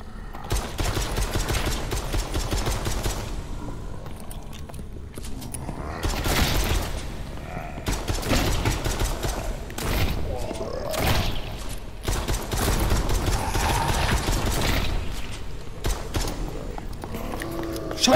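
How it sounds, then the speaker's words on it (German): Enemy gunfire in a VR horror shooter game, bursts of rapid shots with mechanical clatter recurring throughout, loud and close, with little or no talk. "Oh, jetzt ist da hinten einer, der schießt."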